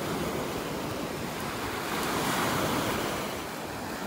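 Small ocean waves wash onto a beach in North Naples, Florida, a steady, loud broadband surf roar with wind buffeting the microphone throughout and no talking.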